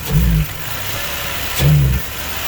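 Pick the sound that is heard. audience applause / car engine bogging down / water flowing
car engine bogging down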